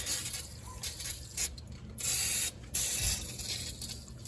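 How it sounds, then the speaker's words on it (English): Short bursts of penetrant sprayed from an aerosol can onto a Nissan Titan wheel bearing hub, a few close, loud hissing blasts with brief gaps between them, and no talking. "We'll spritz this with some"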